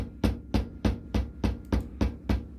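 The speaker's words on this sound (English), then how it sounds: "This is actually my least favorite part of setting copper rivets." Hammer blows setting copper rivets on a handmade minimalist leather wallet, seven sharp evenly spaced strikes about every third of a second, close and clear with no talking.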